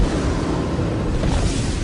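A deep, sustained explosive rumble from a supernova documentary, dense low-end roar holding steady at constant loudness for about two seconds with no distinct onset or talk.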